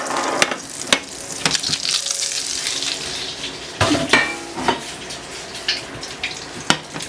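A burger patty fries in a skillet with a steady sizzle, broken by sharp clatters and scrapes of a utensil against the pan at irregular moments, close and fairly loud with no talking.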